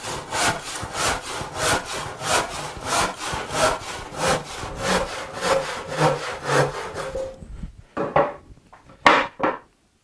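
A handsaw crosscuts a wooden board in a steady rhythm of about a dozen rasping back-and-forth strokes, close and clear, then slows to a few separate strokes as the cut finishes.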